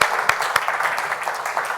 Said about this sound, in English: An applause to the panel.